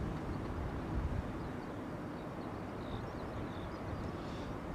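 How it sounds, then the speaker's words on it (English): A British Airways Airbus A380 bound for Miami taxis toward takeoff at Heathrow, giving a steady, distant low rumble of jet engines with no talk over it. "BA380 bound to Miami, trundling down towards takeoff"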